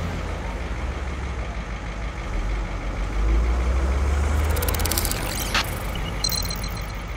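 A tour bus carrying a travel group drives along, its steady low engine rumble and road noise holding constant and close, swelling slightly midway, with a brief higher whine and a faint beep near the end.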